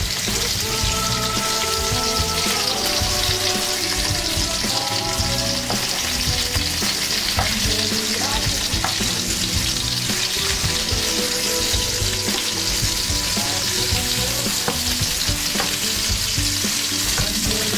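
Food sears in a hot pan with a dense, continuous sizzle and spatter, close and loud throughout, with some clatter and background music tones underneath.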